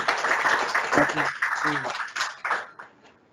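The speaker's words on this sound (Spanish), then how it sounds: "Un aplauso, por favor." An audience at a family-medicine conference applauds a doctor, a dense burst of clapping that thins into scattered claps and fades while someone speaks over it.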